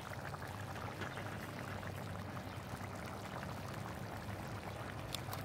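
Long grain white rice mixed with taco seasoning pours steadily into a cast iron pan, a continuous close grainy rush lasting several seconds with no talk over it.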